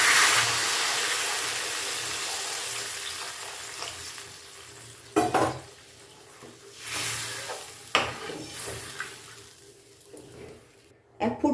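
Warm water poured into a frying fish curry masala, a steady oil sizzle that softens, followed by a few brief splashy bursts and bubbling as the liquid hits the hot pan, close by.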